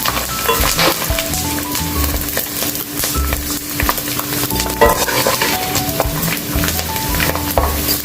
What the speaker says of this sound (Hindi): अब इसी तरह हम बाकी की गोंद भी फ्राई कर लेते हैं